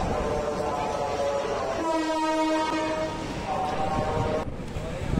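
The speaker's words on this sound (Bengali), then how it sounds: "এখন আমাদের ট্রেন চলে এসেছে" A passenger train on the Dhaka to Cox's Bazar line pulls into a station at night, sounding a loud, sustained multi-tone horn over the steady rumble of the wagons and the murmur of the platform.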